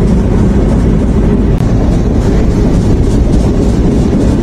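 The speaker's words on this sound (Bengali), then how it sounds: "ভোর সকালে ট্রেন যাচ্ছে।" Steady, loud rumble of the Jahanabad Express train moving at dawn in Bangladesh, a continuous low roar with rattling texture and no voices.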